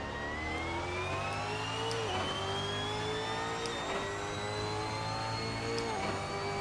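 A 2018 V8 Supercar in Assetto Corsa roars at high revs, its engine note climbing steadily through the gears with brief dips at each shift, loud and continuous with no talk.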